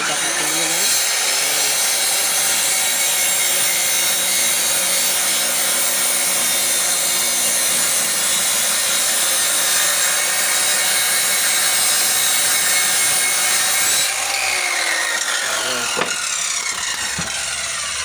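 A saw cuts through a sheet of plywood for the side panel of a coin-operated Wi-Fi vending box, a loud, steady, close grinding rasp that runs unbroken for about fourteen seconds before cutting off, leaving a few faint knocks and handling sounds.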